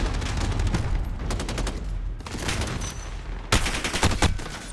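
Rapid gunfire from the video game Modern Warfare (2019), bursts of automatic shots in dense volleys, loud and close, broken by a brief pause before another heavy burst, with no talking.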